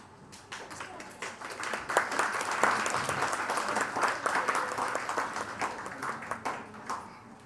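Audience applause at a speech event swells from a light patter into dense, sustained clapping that holds for several seconds before easing slightly.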